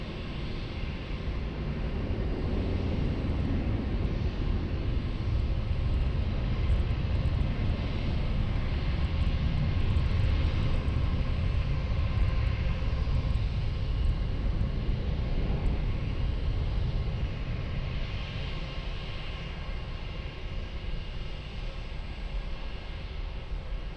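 An airplane taking off from runway 20 at Lisbon Airport gives a continuous loud engine roar that holds steady throughout, with a broad rumbling wash and no talk.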